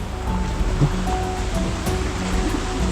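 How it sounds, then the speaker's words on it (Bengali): A wild waterfall deep in a rocky forest in Bandarban roars as a steady, dense rush of falling water, loud and continuous without pause. "বুনো ঝর্ণা এই কারণে মেবি বলা হয়"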